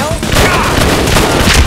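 Gunfire in the video game Red Steel, a quick burst of rapid shots aimed at the player, loud and close over a busy game background with a voice briefly talking.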